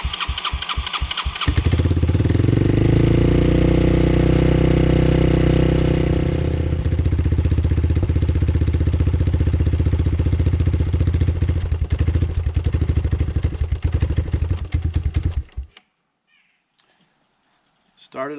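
Engine of a 1986 Yamaha Moto4 YFM200 DX shaft-drive ATV, loud and close, cranking with sharp pulses, then catching and running on choke with a throaty, uneven revving drone before it sputters and dies into near silence.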